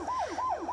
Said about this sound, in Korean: 막 사이렌 소리가 막 들리더니 밖이 막 소란스러운 거예요